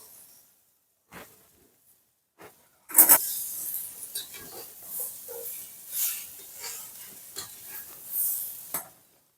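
Curry leaves hit hot oil in a pan while groundnut sundal is cooked, bursting into a loud, sudden crackling sizzle that keeps spitting and hissing in waves for several seconds after a few faint knocks.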